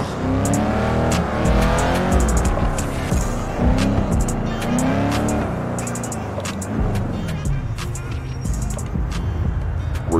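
Koenigsegg Jesko (Överflöd Entity MT) accelerating hard at speed, its engine note climbing through repeated rising sweeps with gear changes, loud and close, with brief tire noise and no talk.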